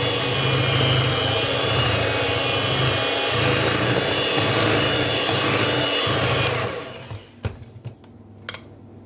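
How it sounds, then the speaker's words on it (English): Electric stand mixer on a slow setting, beating flour into stiff ginger and white chocolate chip cookie dough: a steady loud whirring grind for about six seconds, then it stops and a few faint clicks and knocks follow. "put your mixer on pretty slow"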